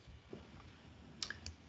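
A mouse click on an on-screen button, one or two faint, sharp clicks in a quiet room with no talking.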